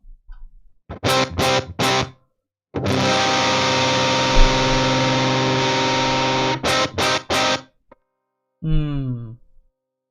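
Heavily distorted electric guitar plays short chugging bursts, then a long sustained chord, followed by more choppy stabs and a brief sliding phrase.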